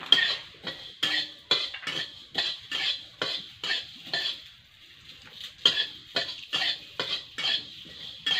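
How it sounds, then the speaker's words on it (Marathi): Coriander seeds dry-roasting in a pan while being stirred, giving a steady run of rhythmic scraping and rattling strokes. The stirring is close but fairly quiet and pauses briefly midway. "धन पण छान लाल रंगावर येईपर्यंत भाजून घ्यायचं आहे"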